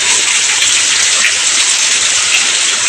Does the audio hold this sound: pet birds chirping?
no